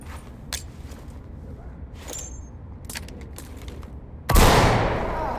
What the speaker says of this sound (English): so I have to use a grenade